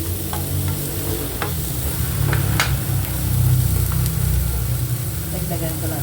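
Garlic sautéing in a pan, a steady sizzle with occasional stirring scrapes over a low continuous rumble, fairly close and moderately loud.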